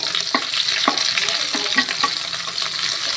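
Long-sliced onions sizzle steadily in a hot pan for an egg curry, with a spoon scraping and stirring them in a few distinct strokes over the constant frying hiss.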